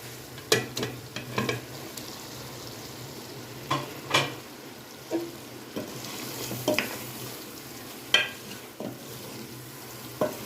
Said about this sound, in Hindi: अब इसमें करेले डाल देंगे।